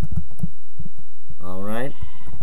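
A Minecraft sheep gives one clear, wavering bleat over game sound, and someone talks around it.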